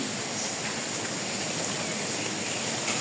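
Rain falls steadily over a village, a dense, even hiss that holds at the same level from start to finish with no voices.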